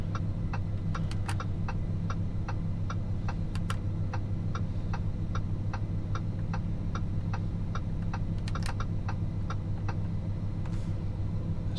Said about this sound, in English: Here, this is actually the turn signal.